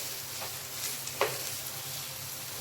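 Salted potato vada masala is stirred in a pan, giving a steady soft sizzle with a single faint scrape partway through; no voices.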